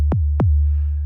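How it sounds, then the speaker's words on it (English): Two deep, punchy Logic Pro Drum Synth hits in quick succession, each a booming low thump with a sharp falling pitch, dry and close. "I told you this is the drum synth"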